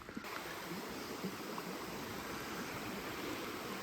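A creek at the mouth of Dennison Run, where it meets the Allegheny River, flowing at moderate volume, gives a steady, close rushing and babbling wash of water, continuous and alone.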